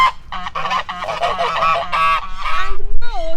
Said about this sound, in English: Now in this house we have some geese, so we'll let them out as well.